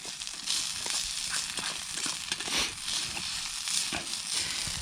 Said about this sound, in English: Hash browns and some steak. Oh man, you guys, steak fried in butter.